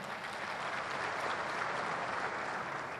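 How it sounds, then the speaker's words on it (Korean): Even, continuous audience applause fills a hall at the opening ceremony of the Chungcheongnam-do provincial government's new Naepo office building in 2013, heard somewhat distant and without speech. "대통령님께 큰 박수 한번 보내주시기 바랍니다"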